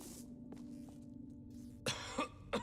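A character in the game Arctic Awakening gives three short, harsh coughs close up, spaced about a third of a second apart, over a low steady ambient hum.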